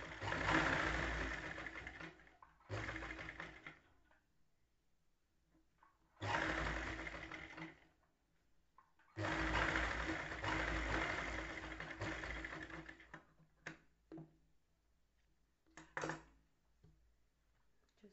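Sewing machine stitching a blouse lining, running in several bursts of a few seconds each with quiet pauses between, close and moderately loud.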